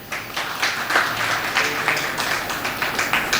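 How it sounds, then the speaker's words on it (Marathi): An audience at a lecture gives a burst of steady, rhythmic clapping that fills the room evenly for a few seconds. "यासाठी जोरदार टाळ्या"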